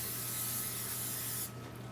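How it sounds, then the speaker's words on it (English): Cooking spray hisses in one steady burst onto a pan in a kitchen, close and continuous, then cuts off abruptly near the end and leaves a low hum behind. "We're going to spray the pan"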